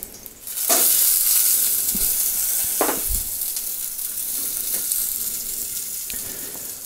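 Small onions fry in a pan with a steady close sizzle, broken by a few louder scraping bursts as they are stirred and turned over.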